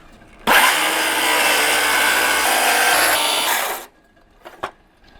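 A circular saw cuts through a Sprinter van window frame, one loud, close, continuous cut of about three seconds that drops away abruptly, followed by a couple of faint knocks.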